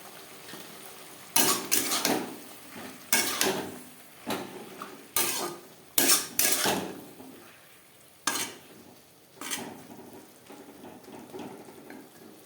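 Bottle gourd stems are stirred with spices in a pan, with a series of sharp, loud spatula scrapes and clatters against the metal at irregular intervals over a faint background.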